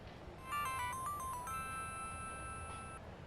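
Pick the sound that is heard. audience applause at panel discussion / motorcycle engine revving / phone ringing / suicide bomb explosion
phone ringing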